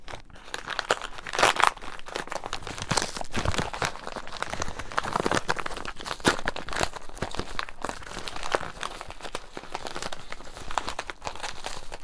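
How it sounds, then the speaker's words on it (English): A box cutter slices open a cardboard package of mystery CDs, giving continuous crinkling, tearing and crunching of cardboard and plastic up close, with no talking. "So let me get my box cutter. Let's open this up. I'm just gonna cut it, little opening there."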